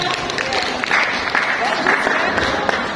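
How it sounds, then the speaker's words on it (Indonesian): Audience in a confidence-training session clapping hands together, a steady mid-level patter of many claps with crowd murmur and talking mixed underneath. "Tepuk tangan ya."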